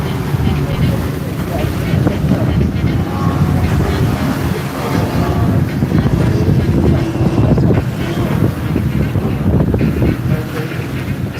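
Racing powerboats on the sea off Torquay roar past in a steady, loud engine drone mixed with heavy wind buffeting and water noise, with a commentator talking over the race throughout.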